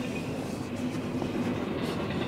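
A CSX freight train passes on a snowy January Saturday, heard as a faint, steady low rumble of rolling cars that holds level throughout without a horn.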